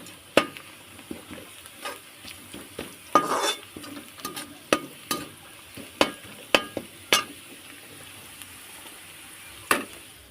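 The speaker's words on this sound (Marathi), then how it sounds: "कांदा हे झाले त्याच्यामध्ये मी आता टमाटर टाकून घेते" Tomatoes and onion frying in a pan for a spicy Maggi pasta, a soft steady sizzle broken by frequent sharp clinks and scrapes of a spoon stirring against the pan, with no voices.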